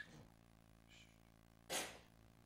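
A single sharp sneeze bursts out near the end, close and loud, after a quiet stretch with a faint breath, during a physics lecture.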